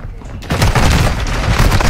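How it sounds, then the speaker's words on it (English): Gunfire in the Call of Duty Warzone video game: loud, dense bursts of rapid shots and booms rolling continuously after a brief quieter start, close and heavy. "Taking effective fire."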